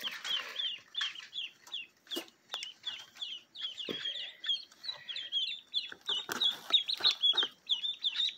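A crowd of young Rouen ducklings peeping steadily in high, rapid chirps, with occasional louder calls and light rustling nearby.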